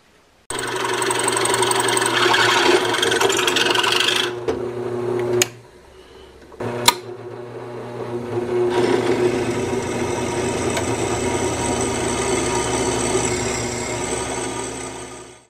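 A power drill whines steadily through metal, enlarging holes to just over 1/4 inch in a magnet fishing magnet, for several seconds, stops briefly, then starts again and keeps running at close range.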